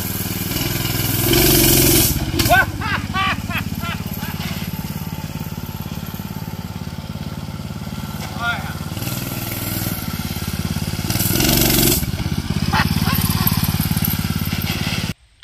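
A 212cc 7HP mini bike engine runs and revs repeatedly, rising in bursts and dropping back to a steady idle, close by and loud.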